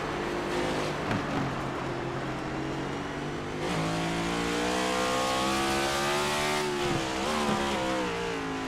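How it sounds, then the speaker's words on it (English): Race car engine in the iRacing sim at Sonoma, downshifting while climbing a hill, loud and steady, its pitch dropping and climbing again with each gear change across the road course. "you hear him downshift already going up the hill"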